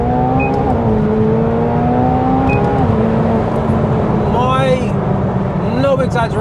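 A McLaren 720S engine revs hard through second gear, loud and close, its pitch climbing steadily, then dropping at a shift before rising again, with tire and road noise underneath.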